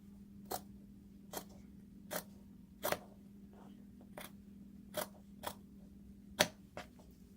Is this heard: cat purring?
no